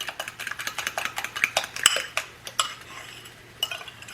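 Breakfast ingredients being mixed in a bowl: quick, rhythmic clinks and scrapes of a utensil against the bowl, close and fairly bright, with no talking.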